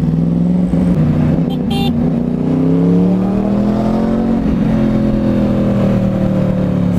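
Yamaha R1 motorcycle with a loud Toce exhaust and cross-plane crank, ridden in Mumbai traffic, accelerating with a deep rising engine note that climbs through the gears, close and continuous under wind noise.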